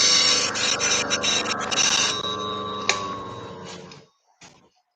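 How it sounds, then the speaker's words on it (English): A spindle gouge cuts wood spinning on a lathe, giving a steady close rasping scrape with thin whining tones that fades out around four seconds, followed by a brief scrape. "Just do one pass with the spindle gouge and see how you go."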